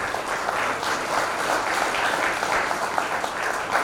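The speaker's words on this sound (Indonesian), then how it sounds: "Tepuk tangan." A crowd claps steadily and loudly throughout, a dense continuous wash of applause with no voices standing out.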